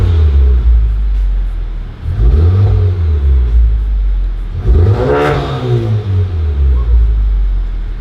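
Honda Civic Type R with an HKS exhaust and audible intake revs close by, a loud rumbling idle swelling into several rising and falling throttle blips. A voice talks faintly underneath.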